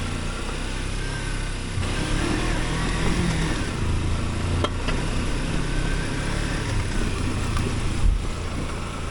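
A Kawasaki Versys X-300 motorcycle rides a rough off-road trail, its engine humming steadily under constant rumble and wind buffeting, with occasional knocks and thumps from the terrain, no talk.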